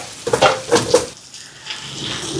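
Fennel seeds, curry leaves, onion, dried chillies and garlic fry in a pan, a few clinking knocks of a spoon against the pan followed by a low sizzle, close and brief.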